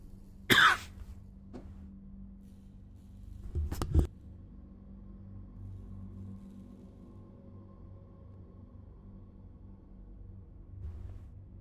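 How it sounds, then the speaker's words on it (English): A single sharp cough breaks the quiet, followed a few seconds later by a short burst of throat-clearing coughs, then a low steady hum. "But I had to cough."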